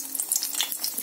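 Brinjals (eggplants) hit hot oil while a stuffed brinjal curry is being made, producing a steady close sizzle and crackle of frying that fills the short moment, with no talking over it.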